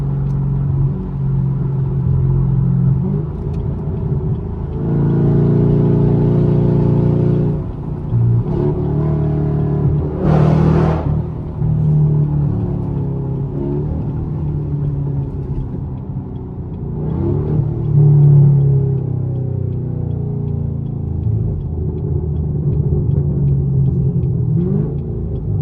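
A catless, straight-piped Chevrolet Camaro SS roars on the highway, its deep, loud exhaust droning steadily with surges of revving and acceleration, heard from inside the car.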